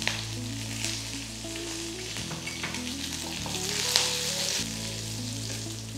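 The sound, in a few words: dry chillies and curry leaves frying in oil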